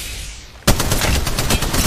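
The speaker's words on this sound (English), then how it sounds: "Shots fired at me." Gunfire in the video game Apex Legends: after a quiet lull, a sudden loud shot opens a rapid, close burst of automatic fire, with repeated sharp cracks in quick rhythm and no talk.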